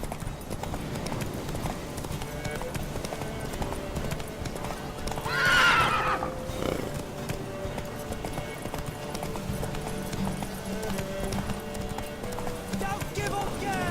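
A horse whinnies loudly partway through, over steady hoofbeats and a busy background of music and game sounds, with voices talking, in The Witcher on Xbox One.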